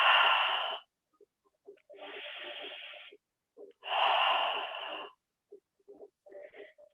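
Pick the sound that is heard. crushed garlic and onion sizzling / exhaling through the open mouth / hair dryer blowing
exhaling through the open mouth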